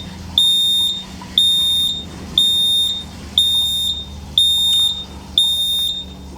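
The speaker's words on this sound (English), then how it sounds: "what has happened now is the alarm is going off because the pump" Marksman Smart Pump alarm sounding a high, piercing electronic beep about once per second, six regular pulses, loud and close over a low background hum.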